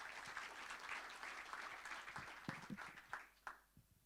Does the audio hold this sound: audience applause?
yes